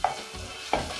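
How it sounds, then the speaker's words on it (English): Chopped fresh pepper sautéing in a pan for fried rice, a steady low sizzle with two brief stirring scrapes near the start and again toward the end, no voices. "Then I'm also going to saute it"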